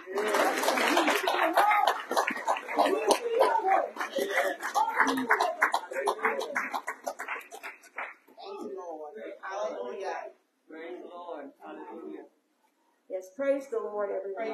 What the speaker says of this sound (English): He got a hand clap of praise.